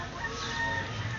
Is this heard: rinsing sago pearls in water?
no